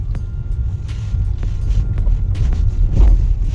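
Steady low rumble of a 2014 Citroën Grand C4 Picasso 1.6 diesel rolling over a rough, uneven road, heard from inside the cabin, with scattered thumps and rattles from bumps.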